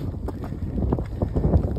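Wind gusting across the exposed summit of Snowdon mountain, a steady low buffeting roar with rough microphone rumble and a few stronger bursts, close and fairly loud with no speech over it.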